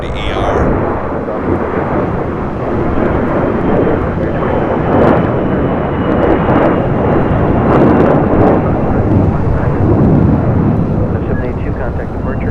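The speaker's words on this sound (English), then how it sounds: "China Eastern Airlines Flight 583 coming from Shanghai in this 777 at 300 ER." A China Eastern Boeing 777-300ER arriving from Shanghai at LAX fills the air with a loud, sustained jet roar that swells and rumbles, heavy and close, with a voice speaking under the noise.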